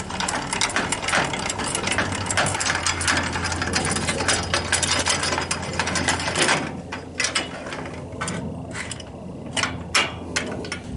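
A trailer jack stand cranked down, its mechanism ratcheting and grinding steadily for several seconds and then thinning into scattered clicks and knocks, close by with no talk.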